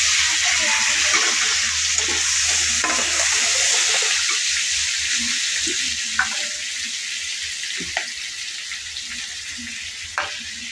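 Potatoes and eggplant frying in a pan with onion, giving a loud continuous sizzle with occasional sharp pops and stirring clatter throughout.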